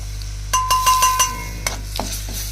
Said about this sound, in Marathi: मसाला तळून घेतला